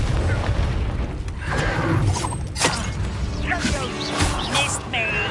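A Confringo fire spell blast in the Hogwarts Legacy video game, a loud burst with crackling, shattering impacts amid dense layered combat effects and music.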